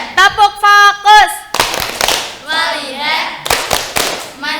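A school class in a mathematics lesson claps in a rhythmic concentration pattern, sharp synchronized bursts in short groups alternating with children chanting and a teacher's voice, close and loud.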